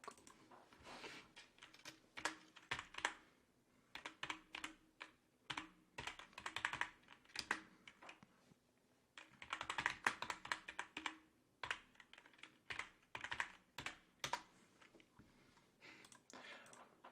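Fingers type a header into spreadsheet cells on a computer keyboard, quiet, close clatter of rapid key taps in bursts with short pauses between, continuing steadily throughout.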